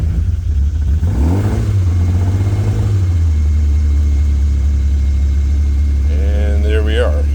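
A 1971 MG Midget cold start: the engine cranks, catches, and runs at a loud, steady, slightly high idle up close, with a voice speaking briefly near the end.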